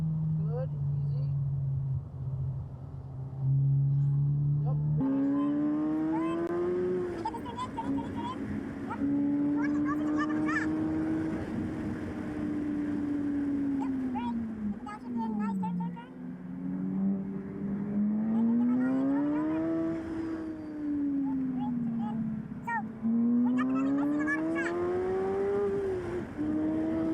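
A Honda Civic Type R FK8 driven hard on a race track, its engine note climbing and falling through repeated revs and gear changes, loud and close from inside the cabin with wind and road noise.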